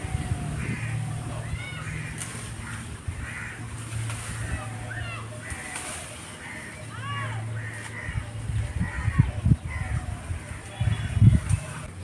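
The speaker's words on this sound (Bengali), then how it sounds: "চারিদিকে কিন্তু পাখির কলরব কিন্তু হালকা হালকা শোনা যাচ্ছে" Birds call faintly and repeatedly outdoors near a bamboo grove, their chirps scattered beneath ongoing talk, with some low rustling and knocking sounds toward the end.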